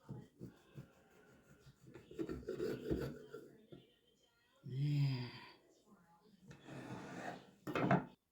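A knife saws through slices of warm homemade bread, producing soft, close rasping strokes in a few separate bursts with quiet pauses between them.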